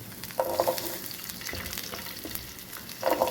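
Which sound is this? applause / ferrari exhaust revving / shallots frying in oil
shallots frying in oil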